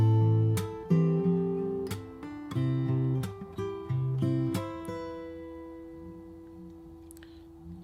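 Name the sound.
fingerstyle acoustic guitar playing first two bars of a song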